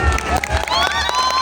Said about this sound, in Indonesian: Minta tepuk tangan dulu teman-teman.